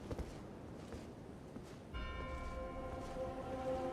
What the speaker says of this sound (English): Listen to that music, the bell.